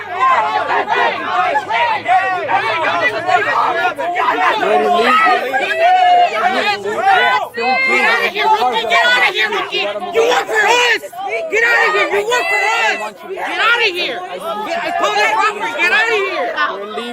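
A swelling crowd gathers around ICE agents in a parking lot, with dense overlapping chatter, shouts and hubbub from many people close by, continuous and loud.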